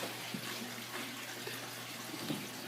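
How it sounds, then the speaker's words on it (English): Water pours and splashes in a steady, continuous rush, close by, with no talking, as it fills aquaponics grow beds in a basement. "So once the beds fill with water,"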